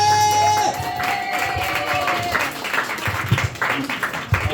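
A comedy club audience at an open mic claps, cheers and whoops for an act being introduced, the crowd noise steady and fairly loud, joined by scattered shouts and a few sustained tones at the start.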